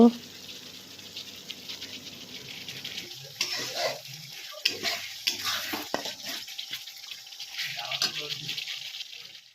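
Spice paste being stir-fried in a pan for a soybean and potato curry, with scraping stirs and a soft sizzle in bursts, close by, under a voice talking.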